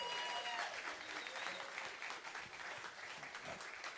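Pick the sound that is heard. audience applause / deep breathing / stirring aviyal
audience applause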